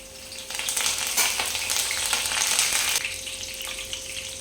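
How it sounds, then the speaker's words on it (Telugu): Mustard seeds, cumin, crushed garlic and curry leaves hit hot oil with a loud burst of sizzling and crackling that swells, holds for a few seconds, then eases to a gentler fry, no voices. "అవి బాగా ఫ్రై కావాలండి"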